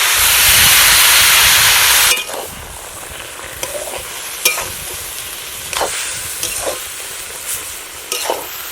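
Water mixed with ground cumin hits a hot pan of Malabar spinach curry in a village kitchen, giving a loud, close burst of sizzling for about two seconds that drops to a softer simmer with occasional stirring clicks.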